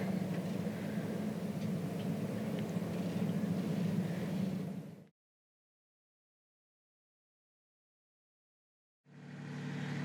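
Sailing-boat engines run at anchor before departure, a low, steady rumble that is faint and continuous, breaks off into silence partway through, then resumes.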